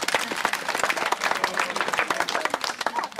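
An audience at an August 20 village celebration in Biharugra applauds, a dense, lively burst of many hands clapping that stays close and steady, with no talk over it.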